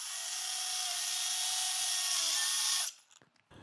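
An angle grinder cuts through strong 7-strand construction cable with a loud, steady high-pitched whine and grinding rasp lasting nearly three seconds, then it stops abruptly, leaving a few faint clatters.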